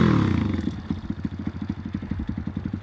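Motorcycle pulling away from a stop as the rider eases the clutch out smoothly, a close, steady engine note with a rhythmic low thump that settles into an even chug for about three seconds.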